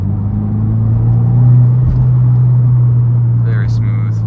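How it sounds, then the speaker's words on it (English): A 2022 Subaru WRX fitted with H&R lowering springs, heard from inside as a steady low engine drone that swells briefly during a downshift to third gear, with a couple of faint clicks near the end. "let's downshift here to third"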